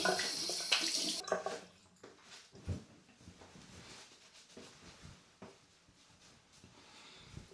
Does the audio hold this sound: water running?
yes